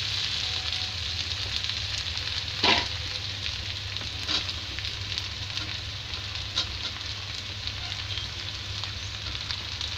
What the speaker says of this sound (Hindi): अब मैं इसमें गोभी डालूंगी।